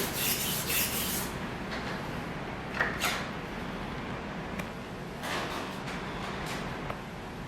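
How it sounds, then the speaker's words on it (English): A knife blade is sharpened on a 400 grit whetstone, making a continuous close gritty scraping with a few brighter rasping strokes, alone with no talk. "So I'm going on a 400 grit stone"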